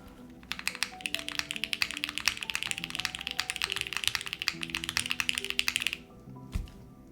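Rapid, dense typing on an Arc60 plateless mechanical keyboard fitted with Cherry stabilizers, a steady stream of close, crisp key clacks for about five seconds, then stopping with one last soft thunk.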